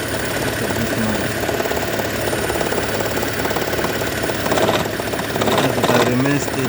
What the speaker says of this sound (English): Engine is getting heavy into it. Look at this noise.